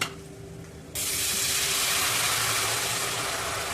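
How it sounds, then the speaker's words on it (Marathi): Water is poured into spices frying for a fish curry, starting as a quiet sizzle and then bursting into a loud, steady hiss that holds to the end. "मसाले परतून झालेले आहेत आता आपण त्यामध्ये पाणी घालून घेऊया"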